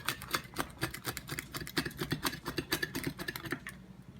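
A knife or cutter crunches through a long homemade bodybuilding pizza, making a close, steady run of rapid crisp crackling bursts for about four seconds.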